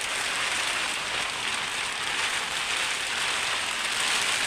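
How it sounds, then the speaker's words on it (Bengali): Heavy rain pours down during a storm, a dense, even roar of falling water, close and loud, with no breaks or voices. "বৃষ্টি শুরু হয়ে গেছে আবার প্রচণ্ড বৃষ্টি আর প্রচণ্ড ঝড় শুরু হয়ে গেছে"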